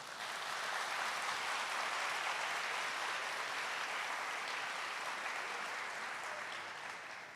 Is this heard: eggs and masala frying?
no